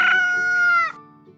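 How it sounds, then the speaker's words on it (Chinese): A cartoon rooster gives a single bright, loud crow lasting under a second, cut off abruptly and followed by a faint low tail. "原来公鸡的叫声是这样的"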